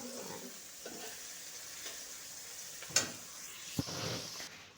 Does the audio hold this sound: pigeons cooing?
no